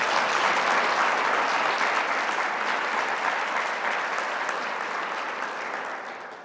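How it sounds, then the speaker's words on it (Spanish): A church congregation applauding together, a dense, sustained wash of many hands clapping close and loud, slowly thinning toward the end, with no talking over it. "Denle un fuerte aplauso al Señor."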